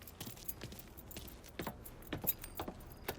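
Keys jangle in a short metallic burst of repeated clinks and rattles inside the Mafia III video game, fairly close and without any talk.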